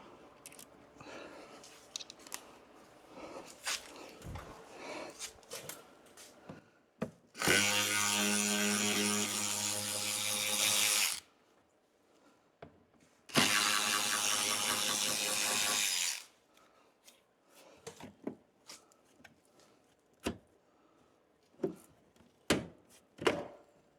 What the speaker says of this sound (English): Now let's take those Torx out and see if that. Helps anyway.